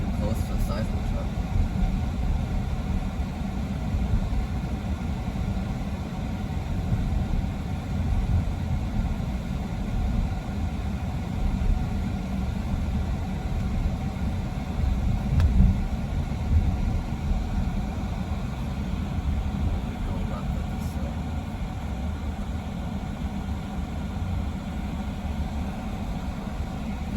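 A 2026 GMC Terrain Denali travels along a road, its engine and tyre noise a steady, even low hum inside the cabin throughout.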